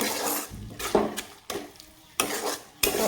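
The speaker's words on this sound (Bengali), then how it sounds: "আমি একটু হালকা নেড়ে চেড়ে নিব" Salt and turmeric get stirred into spices in a pan: repeated scraping strokes at a steady rhythm, each a short burst of clatter over a soft background sizzle, close and moderately loud.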